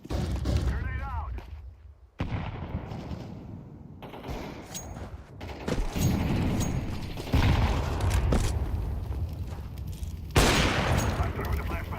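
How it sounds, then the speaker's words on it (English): Explosions and rapid gunfire in a Counter-Strike match, with several loud bursts from flashbangs and grenades layered over chattering weapon fire and game effects, alongside in-game voice chatter. "Flashbang out. Grenade out."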